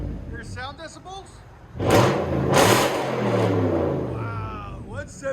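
A Toyota Tundra with straight-pipe true dual exhaust rumbles at idle, then is revved hard twice, loud and near, before settling; voices talk briefly at the beginning and end.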